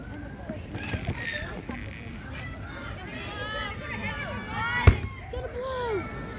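A balloon ignites in a potassium flame-colour reaction at an explosive chemistry magic show, giving a single sharp bang near the end over ongoing crowd chatter and children's voices.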